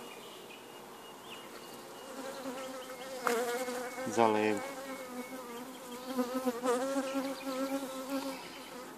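Honey bees buzz thickly and continuously close by at an artificial swarm hive, their drone swelling in places, while a person briefly says a few words.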